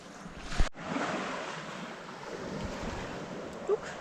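Sea surf washing onto the coast beside the GR34 hiking trail in Brittany, a steady broadband wash of waves with wind, heard alone with a brief thump near the start.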